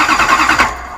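A Toyota 1UZ V8 with a turbo setup spins over on the starter without firing: a brief, close, rhythmic cranking chug of even pulses that cuts off after about a second.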